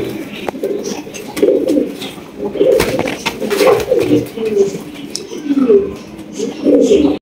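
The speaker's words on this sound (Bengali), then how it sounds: "রয়েছে বিশাল আকৃতির একজোড়া মাল্টেস কবুতর, তাও আবার রেড কালারের মাল্টেস" Low, throaty coos from a pair of large red Maltese pigeons repeat in rolling bursts close by, with a steady murmur of other birds underneath.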